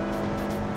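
A bus in the driving game BeamNG Drive accelerates through a tunnel, its engine giving a short, steady, fairly loud drone.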